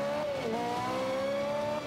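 A Ferrari engine revs in Forza Motorsport 5, a smooth, close, sustained tone that rises, dips briefly and climbs again, loud and alone without talk.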